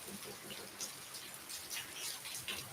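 Steady rain falls outdoors, a dense, even hiss of drops with scattered louder patters, moderately faint and continuous with no voices.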